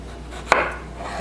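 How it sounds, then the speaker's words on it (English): A single crisp knife cut through cucumber onto a cutting board, one sharp close tap with a short crunchy tail, otherwise quiet. "So you want to cut them as thin as you can."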